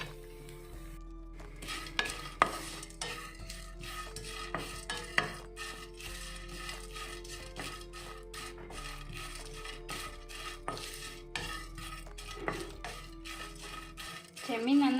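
Dried shrimp frying in a pan for a Kerala-style chammanthi podi, a low steady sizzle broken by frequent scraping and clinking strokes of a spoon stirring against the metal.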